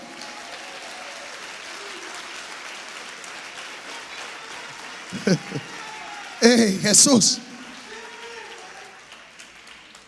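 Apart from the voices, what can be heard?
applause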